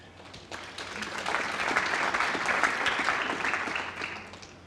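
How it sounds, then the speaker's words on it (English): Snooker spectators at the 2016 Champion of Champions clap for a shot, applause swelling from quiet to a full ripple of many hands, then tapering off toward the end. "Applause. Merited."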